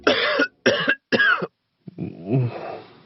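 A person with a cold gives three quick harsh coughs in a row, close and loud, followed after a pause by a rougher, throaty cough.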